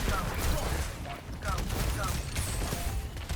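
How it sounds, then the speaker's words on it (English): Roadhog's scrap gun fires rapid, dense blasts at Zarya's barrier bubble in an Overwatch 6v6 fight, a continuous loud clatter of gunfire and game effects. "Trying to shoot the bubble there to break it, to kill the Doom."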